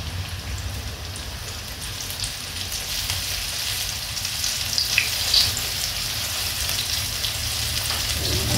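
Taiwan-style chipay chicken coated in paprika, garlic powder and pepper frying in hot oil, a dense steady sizzle that swells slightly louder toward the end, with no voices.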